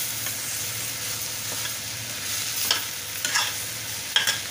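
Sandwich filling for a bread-and-tomato sandwich sautéing in a pan, a steady low sizzle with a few sharper stirring scrapes toward the end, close by and with no talk.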